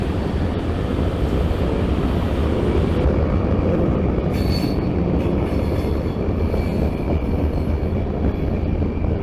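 A CSX freight train passes through Fitzgerald, a loud, steady rumble of rolling railcars with occasional wheel squeal, heard up close with no talking.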